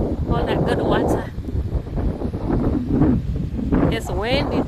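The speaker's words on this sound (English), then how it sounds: "It's windy. Really windy." Strong wind at a beach on Tybee Island, Savannah, buffets the microphone in a steady roar with gusty swells, while people talk and exclaim over it.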